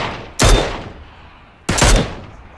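Two loud, sharp gunshots ring out in a PUBG battle-royale match, each a single heavy crack spaced over a second apart, with a fading tail after each.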